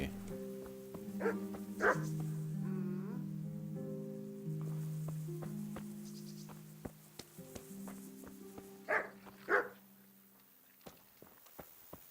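A dog in the video game Kingdom Come Deliverance gives a few barks and yips over a droning tonal background with footsteps, moderately close. A brief voice is heard partway through.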